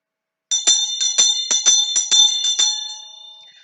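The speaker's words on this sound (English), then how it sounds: "it's the old school bell with its lovely long wooden handle and the brass bell itself" An old brass school hand bell with a long wooden handle rings loudly in quick repeated swings, about a dozen bright clangs, then fades out with a lingering ring.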